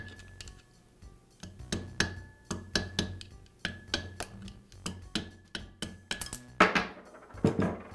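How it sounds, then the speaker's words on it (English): A screwdriver is tapped to drive a 6202ZZ wheel bearing out of a Jet band saw wheel. Sharp metallic taps ring out in a steady series of about a dozen close strikes. The last hits are louder and more clattery. "I'll insert the screwdriver through the top bearing so it's contacting the inner race on the lower bearing. And then I'll just tap the bearing out."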